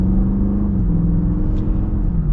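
2021 Dodge Durango SRT in sport mode under gentle partial throttle, with a loud, close engine drone and a low rumble holding steady as the pitch eases slightly; no talk is heard.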